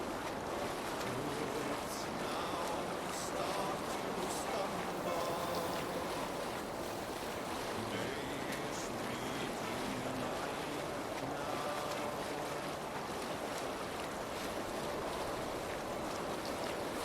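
A sailing ship cuts through open sea in a Viking-era adventure game, its hull washing steadily through rolling waves while wind roars across the sails in a constant, dense wash of sound with no voices.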